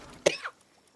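A man on a stream gives a single sharp, loud cough followed by a softer throat-clearing sound, then quiet.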